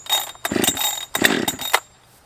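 Husqvarna 572 XP chainsaw being started for cutting a Swedish torch fire log, two or three loud close pull-start bursts of buzzing engine that catch briefly and then die away to quiet.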